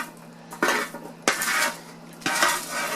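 A metal spoon scrapes and clatters against a pan while stirring roasting chickpeas, in three distinct bursts of stirring separated by brief pauses, close and fairly loud.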